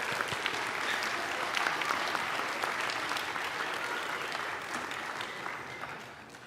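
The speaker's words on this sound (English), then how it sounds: "Can they get another round of applause?" A school concert audience applauds a junior high jazz band, dense sustained clapping filling the room for several seconds before tapering slightly, with faint crowd murmur underneath.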